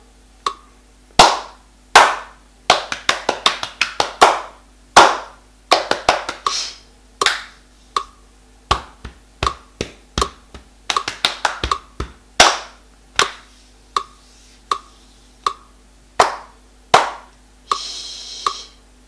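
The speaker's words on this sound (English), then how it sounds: "Shall we try clapping that rhythm from the beginning all the way to the end?" Hands clapping a rhythm in body percussion, sharp claps in varied groupings, some quick runs and some evenly spaced beats, close and clear with no talking.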